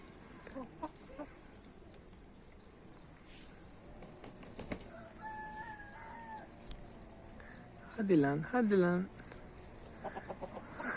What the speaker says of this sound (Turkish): Hadi oğlum kafayı kaldırdı ötecek ama.